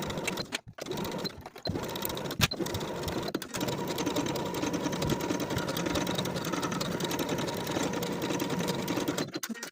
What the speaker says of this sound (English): Sew the ruffle to the sleeve with a 3/8 inch seam allowance and then finish the raw edges together.